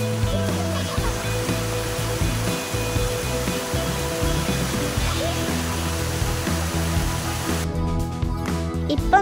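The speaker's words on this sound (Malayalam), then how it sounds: "പോയ വഴിക്കൊരു വെള്ളച്ചാട്ടം കണ്ടു, ഒരു കുഞ്ഞു വെള്ളച്ചാട്ടം." A small waterfall along a road trip route makes a loud, continuous rushing roar that runs unbroken throughout, with a low hum mixed underneath.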